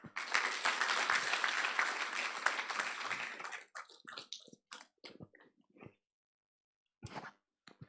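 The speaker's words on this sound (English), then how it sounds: "Another loud applause for Professor." An audience claps in warm, dense applause for a professor at a university symposium, filling the room for a few seconds before thinning into scattered, fading claps and falling silent, then a brief final burst.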